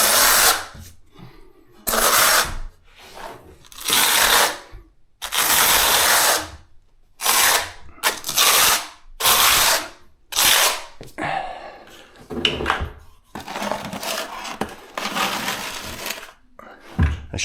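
Power drill with a mixing paddle churning thinset mortar in repeated loud bursts of a few seconds each, separated by short pauses, the motor whirring hard as it works through the thick mix.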